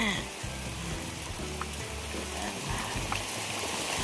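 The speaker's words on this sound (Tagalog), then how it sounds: "Lakas ng ulan." A steady, dense hiss of heavy rain under a person talking, with a low hum throughout and the downpour never letting up.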